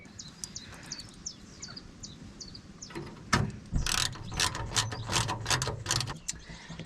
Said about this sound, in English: So first thing I'm going to do is get the new solenoid attached to the bulkhead.